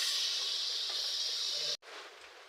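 Water poured into a hot pan holding spices for a fish roe and okra dish gives a loud, steady hissing rush that cuts off sharply and leaves a fainter sizzle.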